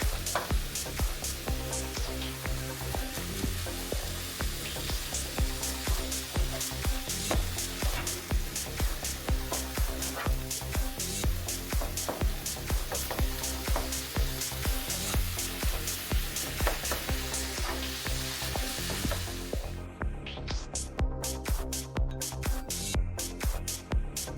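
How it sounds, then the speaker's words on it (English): Ground meat for chili browns in a pan with a steady, loud sizzle and frequent clinks and scrapes of a utensil stirring, continuing without talk until the frying thins out near the end. "You can see the meat browning and starting to cook."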